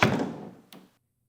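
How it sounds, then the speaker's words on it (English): A door opens with a dull thunk and a brief rattle that fades, followed by a second, smaller knock just before it goes quiet, close by in a quiet indoor room. "let me get the door."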